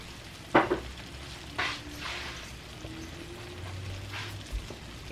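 Potatoes with cream and poblano chile cooking in a pan, a soft steady sizzle broken by a few sharp stirring scrapes and clinks, close and alone with no talk.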